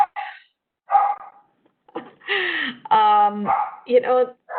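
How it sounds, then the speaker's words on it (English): A pet dog gives several sharp barks and yips close by, scattered in short bursts between pauses, with a person speaking at moments during an online video call. "Sorry about my dog."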